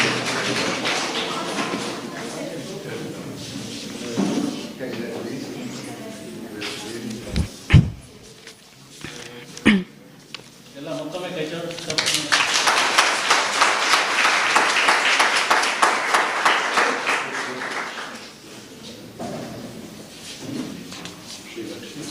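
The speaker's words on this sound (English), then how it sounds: "Please these achievers with a huge round of applause." Audience applause for debate competition winners at an inter-school event, a swelling burst of clapping in the second half after some talking and a few knocks, fading away near the end.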